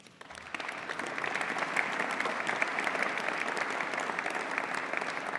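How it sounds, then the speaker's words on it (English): A crowd at a US House bill enrollment ceremony held by Speaker McCarthy applauds steadily, many hands clapping together in a dense, even wash of sound that holds at a constant level throughout. "You can applaud him as well if you want."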